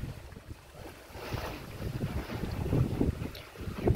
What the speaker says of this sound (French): Le vent s'est levé, on est à plus de 5 nœuds.